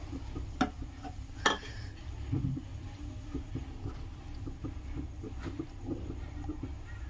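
Onion paste and ginger-garlic paste frying in a pan, a low steady sizzle with scattered clinks and scraping of a spoon stirring, close and moderately quiet.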